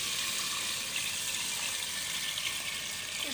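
Water poured into a pot of mutton browned with nihari spices, a steady, continuous hiss and splash that stays close and even throughout, with no talking.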